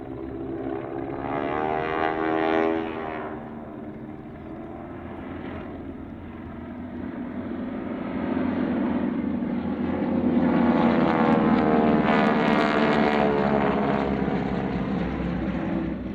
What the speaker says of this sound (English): this was not the Southern Knights' usual aerobatic performance, rather a series of 4-ship formation flybys instead